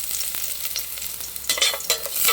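Garlic fries in oil in a thin cooking pot, giving a bright, crackling sizzle with scraping stirring bursts that swell louder toward the end, with no talking.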